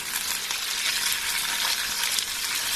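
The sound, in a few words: beans added to frying potatoes, sizzling in pan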